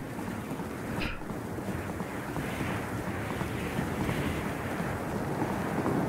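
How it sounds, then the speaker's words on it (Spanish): A waterfall in the video game Brothers: A Tale of Two Sons Remake rushes as a steady, even roar of water that fills the whole stretch. "la cascada no se puede tocar"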